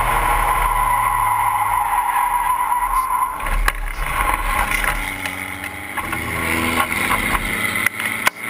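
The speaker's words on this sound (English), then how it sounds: "looks like Seth Reid spun on the exit of turn 2, but he's making it safely back on course as well" A Spec Racer Ford race car spins out on the exit of a corner during an SCCA road race in San Francisco, its engine and tire noise blending into a loud, continuous roar with scrubbing and revving as it recovers.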